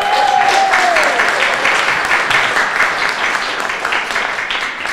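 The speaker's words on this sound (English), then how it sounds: "Give the board a hand clap." A crowd at a community Martin Luther King Jr. Day celebration claps for a board, steady close applause filling the room and slowly thinning toward the end.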